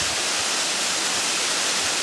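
A mountain brook waterfall pours in a steady, dense roar of rushing water, loud and close with no break across the short stretch.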